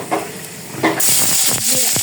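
Whole spices, including bay leaf, cinnamon and cardamom, drop into hot oil and give a sudden bright, loud sizzle with stirring clatter, close by and alone.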